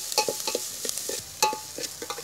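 Onions frying in a pan until reddish brown, with repeated stirring scrapes and a soft sizzle in a steady rhythm, close and moderately loud, with no voices.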